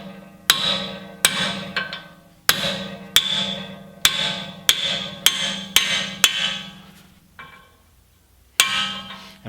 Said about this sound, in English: you can take the ball end of a hammer, and I know a lot of people say you shouldn't hit one hammer on another hammer, but it works